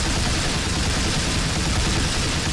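Ammunition cooking off in Viscera Cleanup Detail, a dense, continuous roar of rapid gunfire that stays loud and unbroken from start to finish, with no talking.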